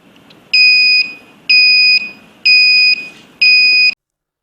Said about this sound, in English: As soon as the .hex file is loaded, the buzzer beeps at the interval of 1 second